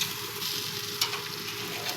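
Jamaican jerk meat sizzles on an outdoor grill in the rain, a steady close crackle and hiss of frying throughout with no talking.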